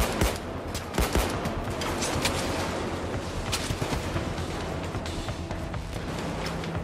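Dense, continuous automatic gunfire from a PAYDAY 2 bank heist shootout, with rapid overlapping bursts and sharp individual shots throughout, loud and close.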